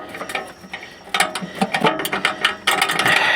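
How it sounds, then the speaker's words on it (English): Socket wrench on an extension ratcheting at a starter bolt under a C4 Corvette, a dense run of close metallic clicks and clatter that grows busier and louder toward the end, with no talking. "Trying to get this bolt in with the extension and the socket is not going to happen."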